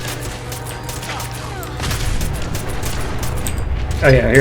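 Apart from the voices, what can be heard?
gunfire in the video game Fallout 4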